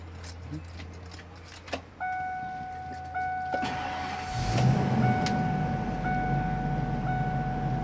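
Ford RV engine cranking and starting, with dashboard chimes sounding in steady beeps as it turns over, then a low idle rumble settling in, close and moderately loud.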